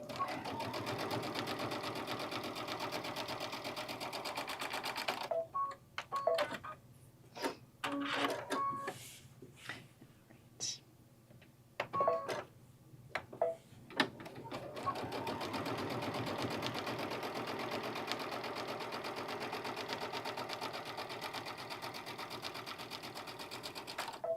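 A sewing machine stitches a bucket bag in fast, continuous bursts, pausing midway for a stretch of scattered handling clicks before running steadily again.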